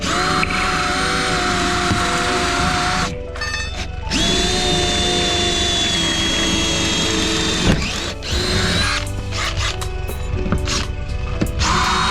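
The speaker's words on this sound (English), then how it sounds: "go ahead and drill that out" A power drill whines continuously and loudly up close, grinding into a metal door lock to drill it out, with brief pauses and bursts as the bit catches and releases.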